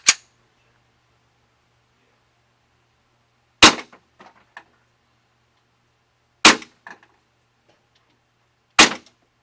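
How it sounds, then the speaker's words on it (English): An airsoft pistol on green gas fires four sharp, loud single shots at a range, each followed by a faint clack, with long quiet gaps between them. "you see that the gun shoots real consistently there on green gas"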